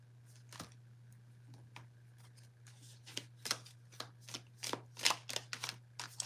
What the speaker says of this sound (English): I'll pull some cards on that for you.